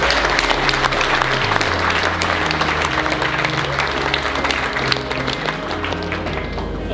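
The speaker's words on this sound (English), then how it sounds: "So give yourselves a round of applause." A crowd at an industry awards ceremony applauds loudly and continuously in a dense, sustained wash of clapping that holds steady for several seconds.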